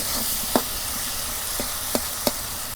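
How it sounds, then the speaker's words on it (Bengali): Tomatoes frying in oil in a Bangladeshi village kitchen for a fish curry, giving a steady close sizzle with a few sharp spatter pops. "টমেটোগুলা একদম তেলের মধ্যে"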